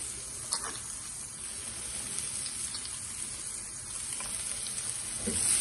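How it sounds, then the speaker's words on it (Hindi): Garlic sizzles steadily in a pan on low flame, a soft continuous frying hiss with a few faint clicks of stirring. "गार्लिक को थोड़ा सौटे करूंगी"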